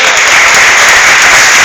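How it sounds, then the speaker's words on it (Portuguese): A church congregation bursts into loud, dense applause during a sermon, a continuous wash of clapping filling the space. "Aplauda o Senhor"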